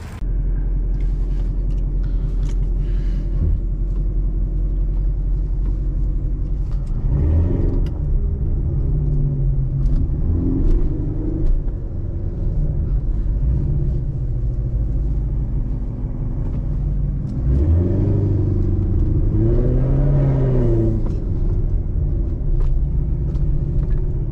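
A 2014 Chevrolet Corvette Stingray Z51 drives along with a steady low engine rumble, swelling twice as it accelerates through gears, heard from inside the car.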